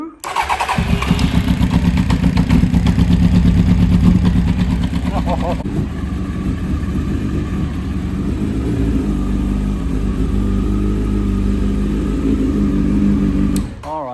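A 1992 Honda Fireblade motorcycle engine cranks and catches, running loudly and roughly close by before settling into a steadier idle and cutting out at the end.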